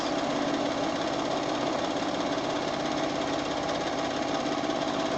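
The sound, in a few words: sewing machine doing free motion quilting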